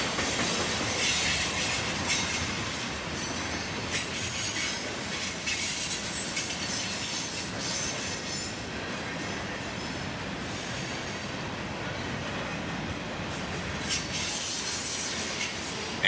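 Freight train wheel sets squealing around a curve as the train accelerates out of town, a loud, continuous wash of high metallic screech over rumbling cars and rail clatter, steady throughout.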